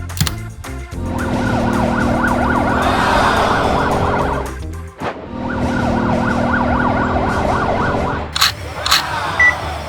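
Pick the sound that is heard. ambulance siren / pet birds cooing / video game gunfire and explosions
ambulance siren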